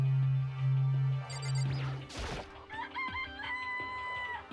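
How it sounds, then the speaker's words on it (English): A chicken in the Danganronpa: Trigger Happy Havoc video game clucks and crows in bright, synthetic calls, with a brief crash midway and game tones after it. "It's a chicken."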